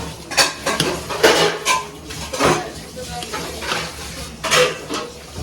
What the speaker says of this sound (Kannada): ಲಾಟ್ ಆಫ್ ಡಿಸ್ಟರ್ಬೆನ್ಸ್ ಫ್ರಮ್ ಪಾತ್ರೆ.